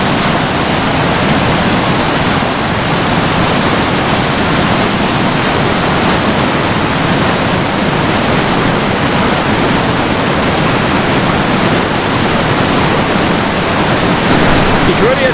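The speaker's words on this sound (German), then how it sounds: "Momentan ist wirklich relativ viel Wasser im Fluss." A swollen river rushes through the channel of a waterwheel with a worn bearing, a loud, dense, unbroken roar of churning water that stays steady from start to finish with no voices.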